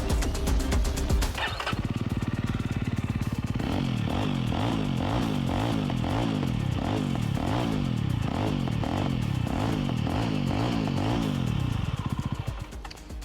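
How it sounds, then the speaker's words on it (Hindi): A Jawa 350 motorcycle fires up and idles through its twin exhausts, giving a loud, close, bassy thump with an even, loping rhythm that holds steady for over ten seconds before cutting off. "एग्जॉस्ट नोट जो है वो भी इसका बदल गया है। Let's hear that."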